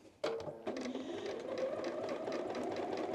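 A sewing machine stitching in the ditch around a waistband, starting with a sharp clunk and then settling into a fast, even mechanical whir that stays steady and fairly quiet, with no talking.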